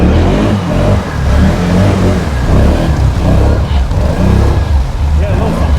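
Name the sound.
Can-Am Outlander 650 ATV engine revving, tires spinning on rocks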